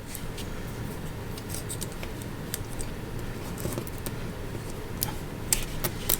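Scissors cutting through material in one continuous motion while crafting red accents, a steady crisp snipping texture with small ticks, close and moderately loud, no talking over it.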